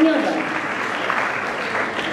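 Audience applause at the Złoty Żuraw 2010 award ceremony for investments in the residential buildings category, a steady wash of clapping from a crowd lasting about two seconds, with a voice briefly over its start.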